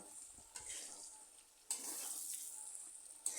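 Cumin powder stirred into beans and potatoes frying in a pan: a steady close sizzle, broken by three scraping stir strokes that briefly swell the hiss.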